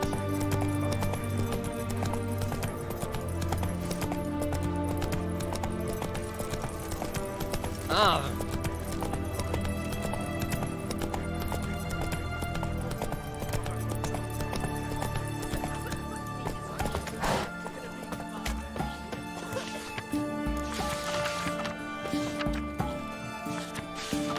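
Roach, a horse in The Witcher 3, gallops in steady rhythmic hoofbeats with an occasional whinny. The sound is close and continuous, and someone talks over it at times.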